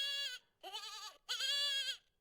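Three bleats of young goat kids played from a pocket goat sound toy, short wavering cries in quick succession with brief gaps, close and clear with no talk.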